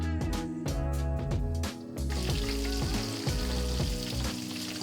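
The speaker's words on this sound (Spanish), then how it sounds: "hacemos las bolitas, las pasamos por harina y las freímos" Flour-coated Galician beef meatballs frying in oil, a steady loud sizzle with bubbling crackle and occasional clinks of a utensil against the pan, close up and without talk.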